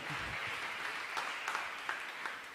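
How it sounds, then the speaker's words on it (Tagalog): A congregation at a church preaching service claps together in a soft, steady wash of applause that sounds somewhat distant, with no speech over it. "Lahat magbigay palakpak sa mahal na Panginoon."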